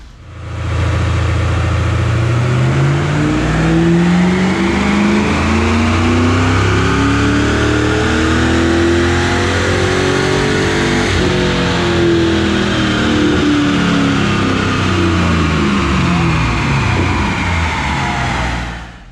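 A 2000 Pontiac Trans Am Firehawk V8 running leaned out on a chassis dyno, revving loud and close in one long wide-open-throttle pull that climbs steadily, shifts near the middle, then keeps winding up before cutting off.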